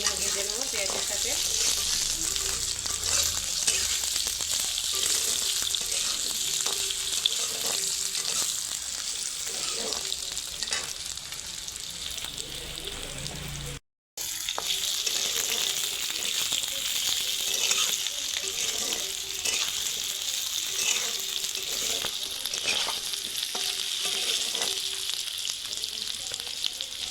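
Potatoes frying with onions in a pan give a loud, continuous close sizzle with occasional stirring scrapes, briefly cut off midway before the frying resumes, with no speech over it.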